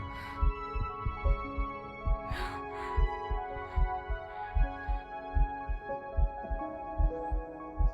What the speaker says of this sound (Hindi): क्या अभी वो तुम्हारे दिल की धड़कन थी?